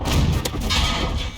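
An Excelsior tank fires back with APCR rounds in a tank battle video game: one sharp shot rings out early over a dense, steady roar of battle noise.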